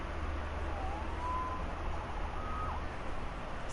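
A faint, wavering police siren in a video game rises and falls far off beneath a steady low rumble and hiss, with no voices.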